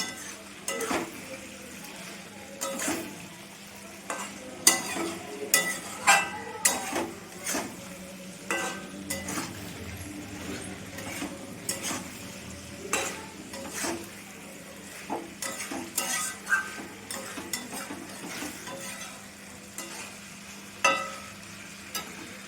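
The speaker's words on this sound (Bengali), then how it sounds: "আলু ফুলকপি আমি আবারও ভালো করে মাখা ঝাঁকা করে নিয়েছি।" Fried cauliflower florets and potato pieces being tossed and stirred in a pan, an irregular run of scraping, clanking spatula strokes over a low sizzle, close and fairly busy throughout.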